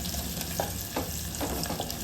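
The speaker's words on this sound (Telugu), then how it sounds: "ఈ కొంచెం ఆనియన్స్ కూడా ఫ్రై అయిపోవాలి." Onions fry in hot oil with garlic, cumin and mustard seeds, giving a steady close sizzle broken by a few soft stirring scrapes and brief pops, with no one speaking.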